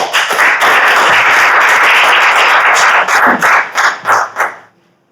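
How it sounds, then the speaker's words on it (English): Applause from an audience at a startup talk, dense and loud for about four seconds, then breaking into scattered claps that fade to silence. "Give them a round of applause."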